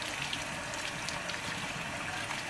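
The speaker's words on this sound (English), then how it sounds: "I always make sure I rinse out every part of the bell really good" Water rinsing through and over a brass instrument bell, a steady broadband wash of running water heard close and continuous, with no voices.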